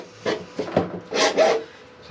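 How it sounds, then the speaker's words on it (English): A hacksaw cuts during a boat shower sump install, giving several short rasping strokes in an uneven rhythm, close by and fairly loud, with brief pauses between them. "They said to use a hacksaw."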